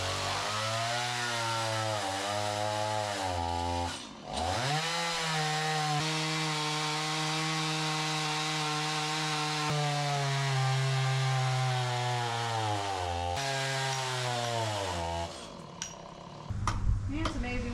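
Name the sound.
chainsaw cutting a massive oak tree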